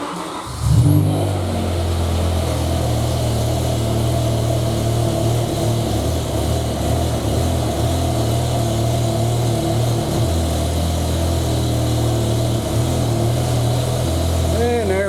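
BMW M5 with a V10 engine, fresh from an ignition coil replacement, cranks and catches with a sharp start, then settles into a steady, smooth idle that stays loud and even throughout.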